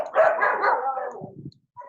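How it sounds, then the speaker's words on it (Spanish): A dog barks once in a short, fairly close yelping burst, followed by a brief softer whimper, with no talking. "Hay unos cuantos perros por ahí."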